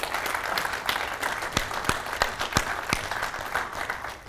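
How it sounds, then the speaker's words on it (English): Audience applause after a convention talk, a steady patter of clapping from a moderate crowd lasting several seconds, fairly even and without voices. "Let's clap."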